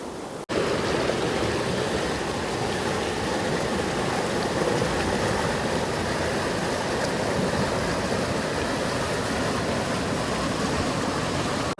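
The Beas river rushes over a rocky bank in a steady, loud, close roar of broadband water noise that runs unbroken for the whole stretch after a brief start, with no voices.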